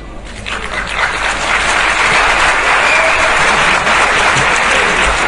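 Audience applause during an interuniversity debate in Mali, loud dense clapping from a large hall crowd that rises quickly and stays at full, steady intensity with no speech over it.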